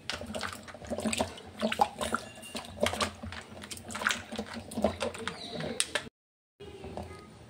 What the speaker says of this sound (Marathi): आता ह्या आल्याचे थोडे तुकडे करणार आहे आणि ते स्वच्छ पाण्याने धुवून घेणार आहे.